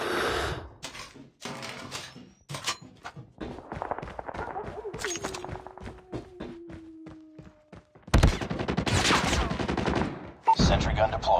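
A sentry gun fires in Call of Duty Mobile amid bursts of gunshots and machine-gun fire, sharp close cracks and rapid volleys, with a long loud burst near the end and game voice lines mixed in.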